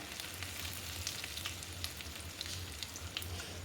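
Chopped garlic crackles and sizzles steadily in hot tempered oil, a dense, even frying hiss with small pops, close and fairly quiet.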